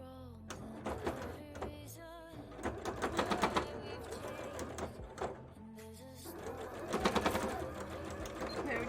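A domestic sewing machine runs in short bursts while top-stitching a handmade bra, rapid mechanical rattling that starts, stops and speeds up, with a voice talking at times between runs.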